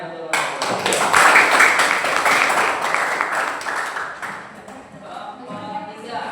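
An audience in a teacher certification exam session claps steadily for several seconds, a dense patter of hands that tapers off at the end.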